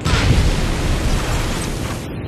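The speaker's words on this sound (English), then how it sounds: "Bombs away!" Bombs exploding in the video game Ace Combat: Assault Horizon, one loud, dense blast that rumbles heavily for about two seconds, then thins out.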